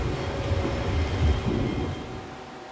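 Steady rain and a low rolling rumble of thunder in the horror game Fatal Frame 5, a dense wash with a swelling bass roll midway, no voices.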